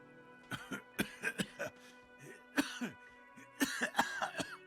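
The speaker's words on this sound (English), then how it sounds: "The aging cryptozoologist breaks into a hideous coughing fit." An aging cryptozoologist in the video game Disco Elysium breaks into a harsh, hacking coughing fit, a close series of irregular rasping coughs and throat clearing with wheezy breaths between bursts.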